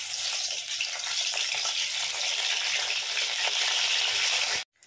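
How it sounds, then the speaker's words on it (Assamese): Eggplant fries in hot mustard oil with a loud, constant sizzling hiss that cuts off abruptly near the end. "আৰু ইয়াত বেঙেনাখিনি মই ভাজি আছোঁ, অকণমান ওলটাই দিওঁ এতিয়া।"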